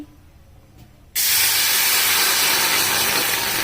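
A gas stove being lit to make jaggery syrup for bobbatlu gives a faint click, then a sudden loud, steady hiss of flowing gas and flame that carries on evenly to the end.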